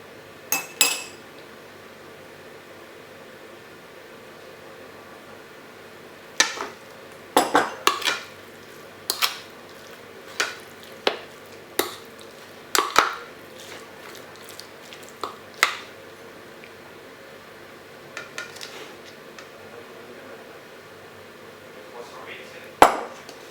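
Beef being stirred with salt and flour in a cooking pot, giving a run of sharp clinks and scrapes of a utensil against the pot, irregular and close, in clusters with short quiet gaps.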